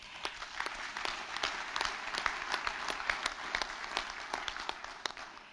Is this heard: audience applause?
yes